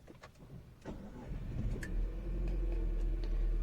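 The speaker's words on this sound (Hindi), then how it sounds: "मैं गाड़ी के अंदर बैठा हूँ, पूरे विंडो क्लोज है और मैं गाड़ी शुरू करता हूँ।" A Jeep Compass BS6 engine cranks and starts, heard from inside the cabin with the windows closed, settling into a steady, muffled low idle hum.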